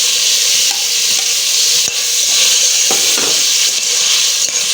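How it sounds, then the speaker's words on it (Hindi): Carrots frying in a pan of hot oil for a vegetable tahari, a loud continuous sizzle with a few scattered stirring clinks on top. "अब मैं यहाँ डालूंगी इसमें ये गाजरें"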